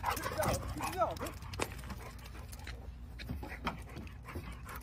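A dog whimpers and barks in short bursts at close range while several people talk and shout over it.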